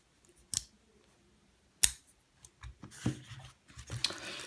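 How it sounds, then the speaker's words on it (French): A pair of scissors from a DIY coil-building kit makes two sharp, close snips a second apart, followed by softer rustling and handling noises that continue to the end. "Ma foi, il coupe bien ces ciseaux."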